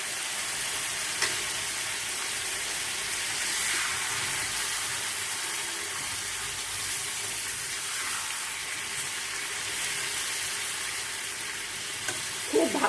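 Prawns fry in a pan with cloves, producing a loud, even, continuous sizzle that holds throughout, with a brief clatter near the end.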